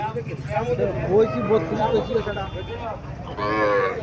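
Sahiwal-breed calves moo repeatedly at close range amid the busy chatter of a crowded cattle market in Chauddagram, Cumilla, Bangladesh.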